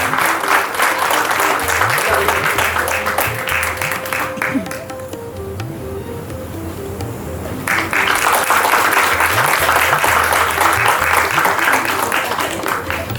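A festival crowd applauds as a group president is honoured on stage; loud sustained clapping that dips briefly in the middle and swells again, with a voice speaking over it.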